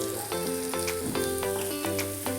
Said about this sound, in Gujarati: ડુંગળી આપણી શેકાઈ જાય ત્યાં સુધી એને આપણે હલાવતા રહેવાનું છે